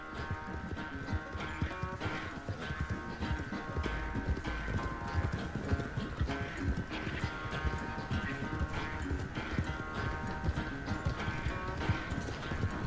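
Horse hooves gallop in a steady, rapid clip-clop rhythm in the Western video game Red Dead Redemption 2, continuous and fairly loud, with a musical score underneath.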